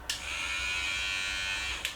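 A cheap battery-powered electric toothbrush buzzes in a steady, fairly loud high-pitched drone for nearly two seconds, starting and stopping abruptly with a click at each end.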